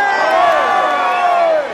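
A large outdoor crowd at the Sapporo beer garden during a Consadole Sapporo football talk show cheers and shouts loudly, a dense, steady roar of voices holding for under two seconds before easing slightly at the end.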